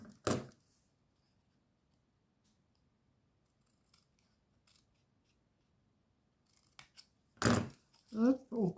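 Scissors cutting paper while a small craft box is being made. Two crisp snips land near the start and near the end, with near silence in between, and a voice speaks briefly at the close.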